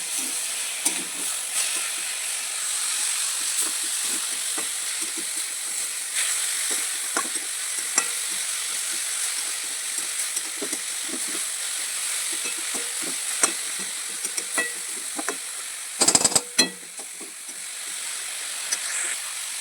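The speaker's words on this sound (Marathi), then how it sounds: "टमाटरला पण एकदम मिक्स करून घ्या, व्यवस्थित परतून घ्या." Tomatoes for anda ghotala, a Mumbai street-style egg dish, sizzle steadily in a hot pan while a spatula scrapes and stirs in repeated soft clacks, with a brief louder clatter near the end.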